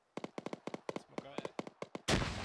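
A frag grenade detonates in the military game Arma 3, a loud, sustained broadband blast that ends a rapid series of sharp, evenly spaced pops like nearby gunfire.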